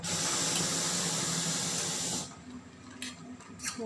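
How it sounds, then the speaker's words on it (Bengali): Tea boiling on a stovetop gives off a loud, steady hiss of steam that cuts off abruptly about two seconds in, leaving quieter background clatter. "তো এই যে এখানে শাহি আমি জাল দিতেছি"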